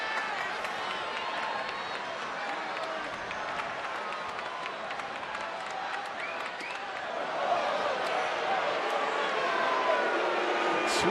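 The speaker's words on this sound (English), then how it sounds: "loud crowd in left center field. They are making a lot of noise." A loud crowd in left-center field at a San Francisco Giants baseball game keeps up steady clapping and cheering, a dense wash of sound that swells louder toward the end.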